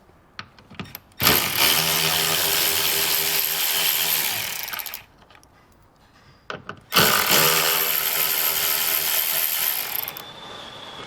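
A power tool buzzes loudly and close by as it backs out 10mm taillight housing screws inside the trunk of a 2020 Nissan Rogue, with two long runs separated by a short pause and a few brief taps.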